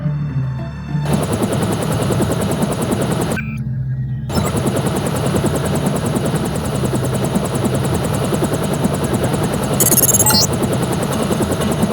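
Stealth helicopter in the game Deus Ex: a steady, loud rotor drone with chopping pulses runs throughout, briefly cut and muffled near the start, with a short high electronic chirp toward the end.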